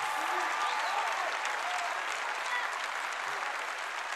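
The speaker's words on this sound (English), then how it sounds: "Come on and clap your hands and praise God." A church congregation claps hands continuously, a dense, steady wash of applause filling the room with no clear individual claps standing out.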